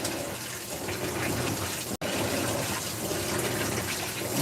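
Water gushes steadily into a Whirlpool WTW5057LW0 top-load washer filling for a jeans cycle, a loud, continuous rushing stream broken by one split-second cut.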